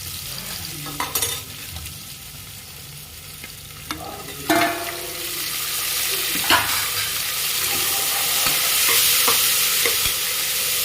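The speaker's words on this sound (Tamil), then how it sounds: "வெங்காயம் நல்லா வணங்கிட்டு தக்காளி போட்டுக்கோங்க." Onion and tomato sautéing in a pan as a spoon stirs them: sharp scrapes and clinks come over a sizzle that builds and grows louder toward the end, with no voices.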